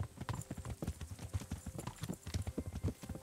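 A horse's hooves clip-clop at a brisk walk while being ridden in the medieval game Kingdom Come: Deliverance, with close, uneven thuds in a steady rhythm and a faint whinny.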